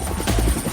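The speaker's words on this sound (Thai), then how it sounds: "เขาส่งช็อกโกแลตมาให้ฉันด้วยเฮลิคอปเตอร์" A cartoon helicopter delivering chocolate thumps with rapid rotor chopping over a low whirring drone, loud and close for a brief moment.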